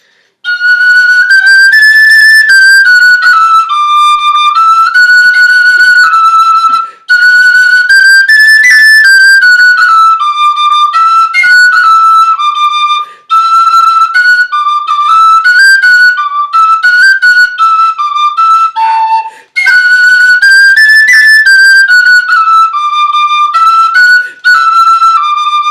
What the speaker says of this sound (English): That's the D whistle.